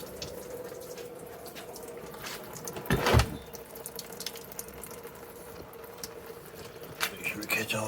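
Coolant draining from a 2WD Toyota Hilux truck's radiator into a large pan: a faint, steady liquid trickle with a brief louder splash near the middle.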